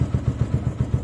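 A motorcycle engine, just brought to life by a lithium battery pack's self start, idles with a steady, even thumping pulse, close and fairly loud, with no talk over it.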